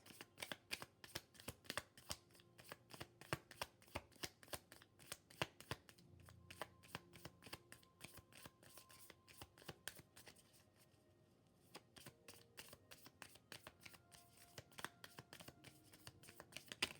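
Oracle cards are shuffled and drawn in a quiet room, giving a steady patter of soft, crisp card flicks and riffles close to the microphone, with a brief lull near the end.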